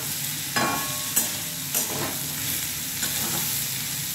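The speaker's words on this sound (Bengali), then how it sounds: "এভাবে একটু ভাজা হবে।" Bitter gourd and potatoes fry in plenty of oil, a steady sizzle broken by several sharp scraping stirs at irregular intervals, close and fairly loud.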